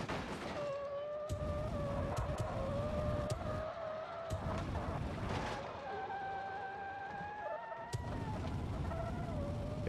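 A car engine in a driving video game over-revs in a tight loop, with high revving tones rising and falling against a constant drone. Sharp clicks and breaks cut in repeatedly, and no one speaks.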